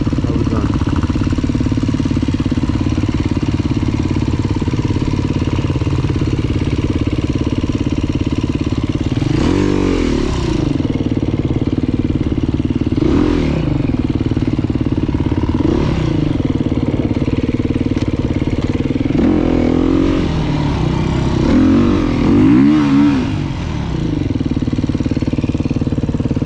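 Yamaha YZ450 dirt bike running downhill, its engine droning steadily with several sharp revving bursts and throttle blips in the middle, loud and close, with no talking.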